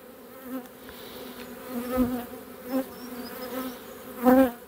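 Honeybees buzz steadily up close in an open hive during a spring apiary visit, with the hum swelling and fading as individual bees pass near.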